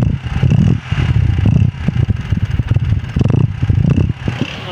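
Close, loud Honda 70 motorcycle engine running with a rough, throbbing low rumble and uneven bursts, as if being revved in place.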